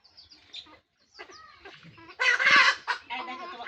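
Village chickens clucking nearby in a rural yard, a string of short clucks and squawks with a brief pause, then a louder, busier burst of calls.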